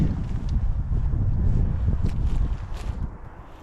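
Steady gusty wind buffeting the microphone outdoors on a hike near a village in the Burgas area, a constant low roar that eases slightly toward the end.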